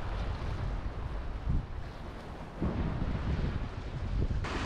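Strong wind of 15–20 m/s roars across the microphone on Lake Ladoga, with 2–2.5 metre waves surging and slapping around a dragon-style longboat, loud and continuous with no talk.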